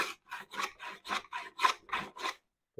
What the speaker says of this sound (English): I'll continue to plane a little more